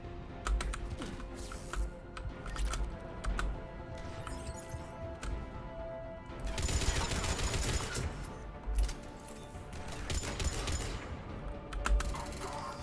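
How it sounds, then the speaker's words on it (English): Scattered bursts of gunfire as enemies are shot in Mass Effect 3, mixed with clicky mechanical game sounds and a loud rattling flurry partway through, over a steady game soundtrack. "I'm going to shoot your buddies"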